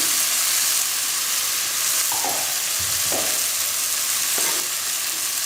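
Bitter gourd frying in a pan for chana dal karela, a continuous loud sizzle with three or four distinct scraping stirs of a spoon through the pieces; no voices.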